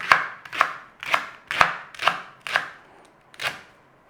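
A knife chops leeks into 1 to 2 cm pieces on a board, seven crisp evenly spaced thuds close up, each with a short ringing decay, no talking.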